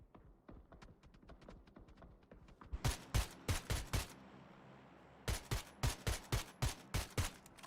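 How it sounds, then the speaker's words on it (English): Long-distance gunfire in the battle royale game PUBG during a league match: bursts of sharp, evenly spaced shots, first softer and scattered, then louder, clustered volleys with a pause between groups, no talk over them. "long distance shots though do come through"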